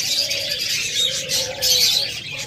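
Pet lovebirds and diamond doves in an aviary keep up a continuous mix of bright, high chirps over low, soft cooing, close by and fairly loud throughout.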